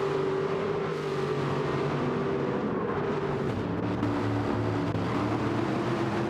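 Aston Martin race cars lapping Brands Hatch GP in a racing video game, a steady droning engine note with shifting harmonic whine as cars run close together, loud and unbroken throughout.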